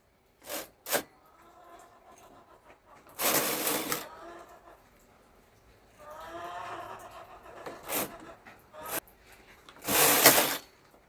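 Knitting machine carriage sliding across a row while knitting a baby dress, several quick mechanical swishing passes with clicks and rattles between them, close and moderately loud, with no talking.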